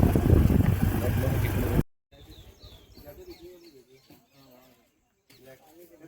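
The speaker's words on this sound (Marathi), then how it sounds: "पक्षी पण आवाज करत आहे." Birds chirp and call at a moderate distance over soft ambient noise near Telgaon Maruti Dam, following a loud burst of wind-like rumble at the start.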